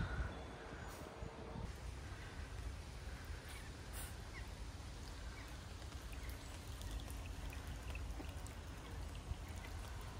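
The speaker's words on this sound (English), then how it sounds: "I think it might be raining" Steady rain patters and hisses evenly, with a constant low rumble beneath it and occasional small drips standing out.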